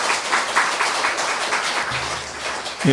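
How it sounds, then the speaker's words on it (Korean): Steady applause from a church congregation, a dense patter of many hands clapping continuously and fairly loudly throughout. "우리가 수고하신 모든 분들을 위해서 또 우리 자신들을 위해서 축하와 격려의 박수를 보냅시다"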